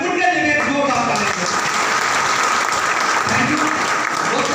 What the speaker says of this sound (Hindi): और सभी मेरे ग्रेट मेंटरों के लिए भी मैं एक बार जोरदार ताली बजवाना चाहूंगा